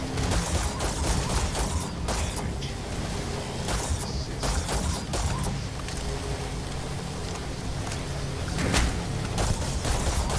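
Turrets in the video game Starfield fire in dense, continuous volleys, with sharp cracks and booms layered over a constant rumbling din.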